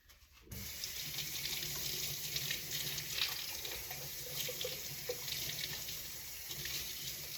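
Steady tap water runs continuously into a container while nut milk is being made, a close, even rushing stream that starts abruptly after a brief quiet moment and carries on alone without voices.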